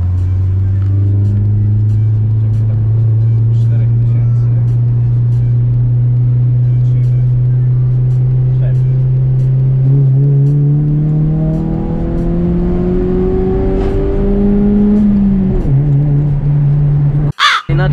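A Honda Civic's D14Z6 engine fitted with a homemade intake revs up, its droning tone climbing steadily and then dropping back before a sharp knock at the end, loud and close with no talk.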